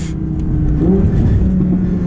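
An Audi R8 with all-wheel drive and a manual gearbox, driven on the road: a loud, close engine drone rising through the revs, with a low steady rumble and road noise throughout.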